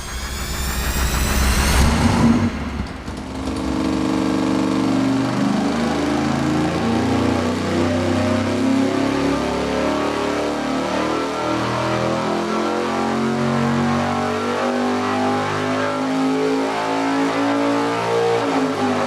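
A small block Chevy V8 with a dual plane intake manifold revs hard on a dyno pull, a loud sustained roar climbing steadily in pitch after a brief shift in tone at the start.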